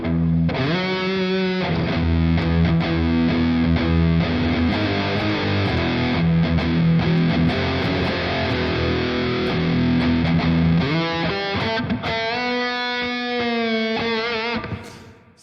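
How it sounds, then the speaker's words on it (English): Electric guitar chords ring out with a washy reverb tail, strummed and sustained, then a fresh bright chord near the end fading away. "we have, of course, a reverb, which is already activated. Let's crank it up."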